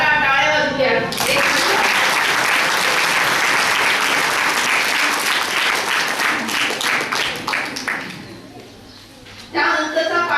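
An audience at a village assembly breaks into loud, sustained clapping that gradually thins out toward the end, with a person speaking briefly before and after the applause.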